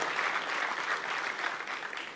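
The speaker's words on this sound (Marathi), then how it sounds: "त्यामुळे एकदा त्यांच्याकरता जोरदार टाळ्या हे आपण सगळ्यांनी वाजवल्या पाहिजेत" Audience applause at a Marathi public event about forts, a steady, even roar of many hands clapping at moderate distance, sustained without pause.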